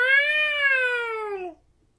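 A person imitates a cat with a single drawn-out meow, clear and close, lasting about a second and a half before fading to silence.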